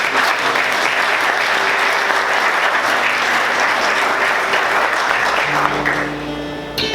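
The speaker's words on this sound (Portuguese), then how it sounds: "Vamos aplaudir o Senhor" Steady, dense applause from a church congregation praising the Lord, filling the room without a break and easing off near the end as faint tones come in.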